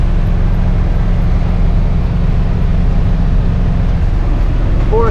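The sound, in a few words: motorhome driving on freeway in fourth gear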